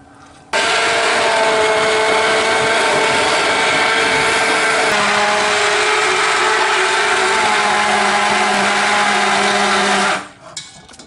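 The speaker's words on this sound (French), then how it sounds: "on mixe pour avoir un coulis." A blender runs loud and steady, puréeing tomato sauce into a smooth coulis, its motor pitch dropping midway as the load changes before it cuts off near the end.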